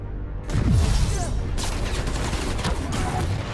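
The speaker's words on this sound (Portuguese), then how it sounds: "A polícia e os fugitivos estão atirando." Police and fugitives trade rapid gunfire in the Spider-Man: Miles Morales video game, a dense fusillade of loud bursts starting abruptly after brief silence and continuing with sharp repeated cracks.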